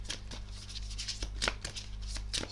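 Tarot cards are handled and drawn from a deck, giving a series of soft, close, crisp card snaps and slides. Several separate flicks sound over a low steady hum.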